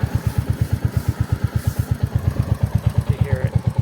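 A Benelli motorcycle engine idles in neutral with a close, even, rapid thumping pulse that holds steady for a few seconds.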